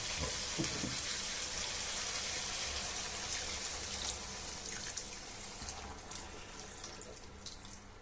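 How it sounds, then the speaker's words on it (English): Tap water runs into a one-pot meal of sausages, rice and peas, a continuous close gushing stream that holds steady and eases slightly toward the end, with no talking. "I'm going to top it up with water"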